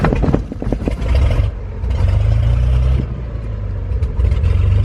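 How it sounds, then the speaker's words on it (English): A Cessna 210 piston aircraft engine runs close by with a deep, throbbing drone, surging briefly after some clattering at the start, then holding a steady low rumble. "Man, listen to that meaty engine."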